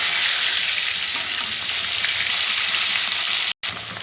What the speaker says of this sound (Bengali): তাহলে কড়াইটা বসে মাছটা ভেজে নেব